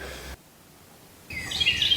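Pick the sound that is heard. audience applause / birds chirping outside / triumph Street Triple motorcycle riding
birds chirping outside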